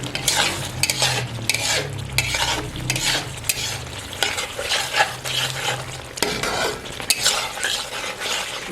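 Dhaba-style chicken karahi stir-fried in ghee sizzles loudly and steadily while a metal spatula scrapes and clacks against the pan in a busy, repeated rhythm, with no talking.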